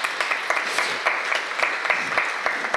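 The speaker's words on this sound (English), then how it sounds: "give us a round of applause for that" A church audience in the UK applauds, with steady dense clapping throughout and brief sharper claps standing out.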